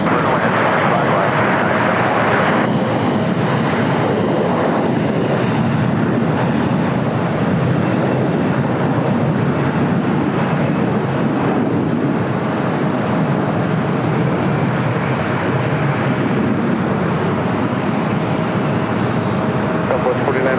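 Aircraft on a runway at LAX, a loud continuous broadband engine roar filling the whole stretch with little change, with radio talk present.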